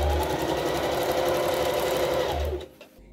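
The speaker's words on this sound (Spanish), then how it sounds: "le voy cosiendo" A sewing machine runs in a steady, close, loud whir while stitching a folded hem on a kitchen apron, then stops abruptly near the end.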